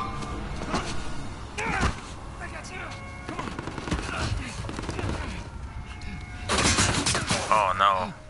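Gunfire in the video game Uncharted 4, with bursts of shots and impacts crackling over a noisy game soundtrack. Shots come in irregular clusters, some loud and close, with busy action sounds between them.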